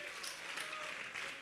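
Church congregation clapping in praise during a Spanish-language service, a steady dense wash of applause filling the whole moment at moderate loudness.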